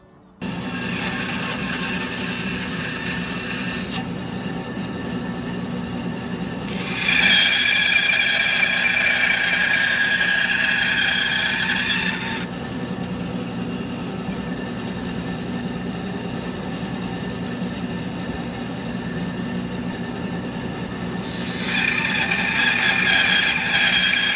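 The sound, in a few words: bandsaw cutting a block of red cedar wood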